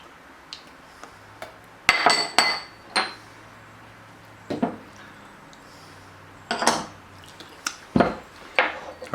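A spoon clatters and scrapes against a bowl while sour cream, mayo, jalapeno, onion, lime, cumin and garlic are mixed for a Baja sauce, in sharp irregular clinks and knocks separated by quiet gaps.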